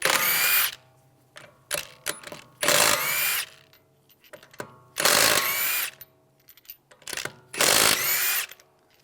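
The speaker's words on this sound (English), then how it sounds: "use a 19mm socket, take the lug bolts out" Bursts of a power impact tool spinning off lug bolts with a 19mm socket on a 2013-2016 Dodge Dart rear wheel, four or five loud whirring runs separated by ratcheting clicks and quiet gaps.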